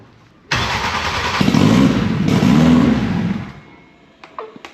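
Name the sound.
1400hp Honda Civic engine starting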